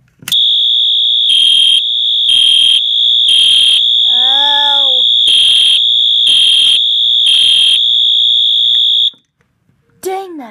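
A fire alarm sounds during a system test: a loud, piercing steady tone pulsing in a repeating pattern with a brief whooping interruption, close and harsh, cutting off abruptly, followed by a short exclamation.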